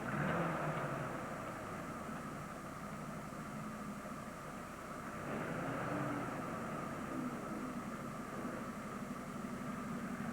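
A four-wheel-drive vehicle drives steadily at a 1992 bear-baiting site, its low engine rumble and road noise running continuously at moderate distance with a slight rise in the middle.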